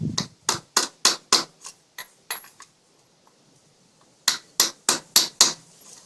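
A Harley-Davidson Evo cam oil seal is driven in with a hammer on a socket, giving sharp metallic taps in two bursts, six then five, with a quiet pause between, close and distinct.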